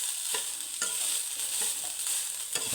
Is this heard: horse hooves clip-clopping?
no